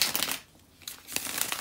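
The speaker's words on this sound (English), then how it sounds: "So let me shuffle the cards" Tarot cards are shuffled by hand in quick papery riffling bursts, with a short pause in the middle, close up and fairly quiet.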